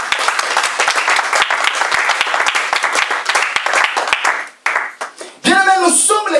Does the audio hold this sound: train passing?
no